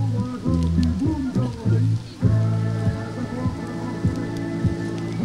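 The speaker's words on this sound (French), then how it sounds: "la pluie qui est en train de redoubler maintenant ici sur le circuit" Heavy rain pours down on an outdoor cyclo-cross race circuit in Caudry, a steady hiss with scattered drops. Loud tonal sounds sit over it, likely a nearby commentator's voice or a crowd, heard throughout.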